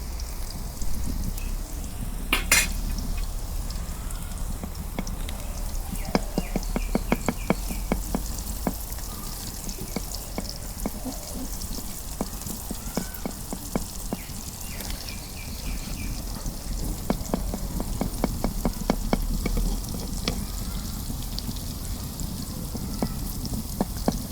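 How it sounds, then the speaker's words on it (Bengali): Garlic fries in hot mustard oil with a steady, even sizzle that runs throughout, dotted with faint crackles and pops and an occasional scrape of stirring. "তেল গরম হচ্ছে রসুন দিয়ে দিই"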